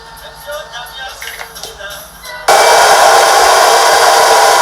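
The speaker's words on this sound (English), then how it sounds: "Going in with the blow dryer again to make it dry a bit" A hair dryer switches on partway through and blows with a steady, loud whoosh after some quieter rustling and handling, drying a wig closure.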